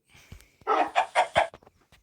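Chicken in the video game Block Crazy Robo World gives a short burst of four rapid clucks, close and moderately loud, lasting under a second amid quiet surroundings.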